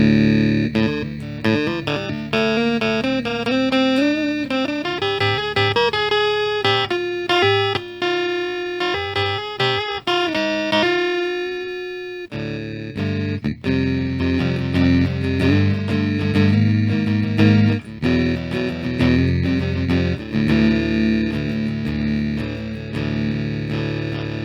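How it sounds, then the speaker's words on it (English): Electric guitar run through a ring modulation effect, playing a loud continuous passage of metallic, clangorous, inharmonic tones, first as a picked melodic line and then as sustained strummed chords, with no talking. "Let's hear the basic tone with the ring modulation."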